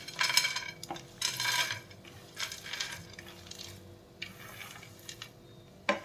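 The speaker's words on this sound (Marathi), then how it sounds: "हे मी चांगलं मिक्स करून घेतलेलं आहे" A spoon mixing roasted mashed dates with fried dry fruits in a pan for sugar-free laddus, making bursts of scraping and clinking against the metal, close and moderately loud, with short pauses between strokes.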